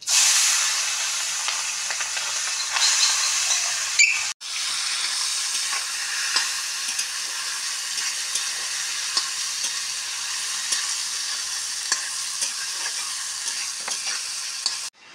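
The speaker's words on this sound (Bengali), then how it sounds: "এবার মাছটা দিয়ে দেবো, দিয়ে নিভে নিভে জালে চচ্চড়িটা করবো আমি" Mola carplet fish fry in hot oil with black cumin seeds in a pan, a steady loud sizzle and hiss running throughout with small stirring scrapes, briefly interrupted once before resuming.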